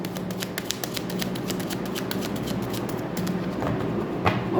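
A deck of tarot cards is shuffled by hand, giving a rapid run of crisp, close clicking and flicking over a low steady background hum, with no talk.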